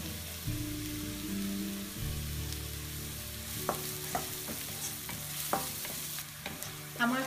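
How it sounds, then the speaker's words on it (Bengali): Chopped onions frying with salt in a pan give a soft, steady sizzle, with several sharp scraping and clinking stirs near the end over a low background hum. "পেঁয়াজটা আমি একটু ভেজে নিব ভালোভাবে, পেঁয়াজের সাথে বেশ খানিকটা আমি লবণ দিই।"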